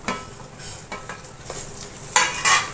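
Shredded coconut and peanuts being stirred in a hot pan while making makhana chivada, with intermittent scraping strokes over a soft, steady sizzle, close and fairly quiet, no talking.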